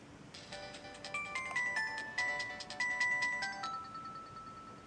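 A Samsung GT-E1150 mobile phone plays its power-on tune: a short electronic melody of bright beeping notes, clear and close, running about four seconds before ending on a held tone.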